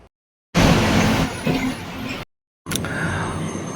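Truck stuck in a heavy traffic jam on the Mumbra ghat, with loud engine rumble and a sharp air-brake-like hiss in two bursts separated by short silent gaps.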